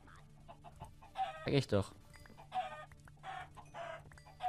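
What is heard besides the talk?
chickens clucking in Minecraft video game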